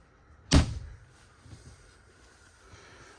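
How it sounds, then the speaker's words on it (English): A single sharp bang of a sliding door on a roller inside a travel trailer, up close, with a short rumbling tail fading into quiet room tone. "Got this door right here, which is just on a roller."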